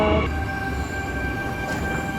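Continuous low rumble of a train arriving at the opposite platform of a station, with a faint metallic hum, steady and fairly close, no one speaking.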